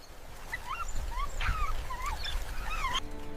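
African wild dogs give high, chirping calls in the Okavango wild, several short twittering cries scattered over a low rumbling background.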